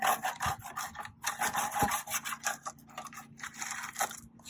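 A saw cuts roughly through excess plastic with close, uneven rasping strokes and scraping. The cutting is fairly loud, with short pauses and a few dull knocks, and no speech.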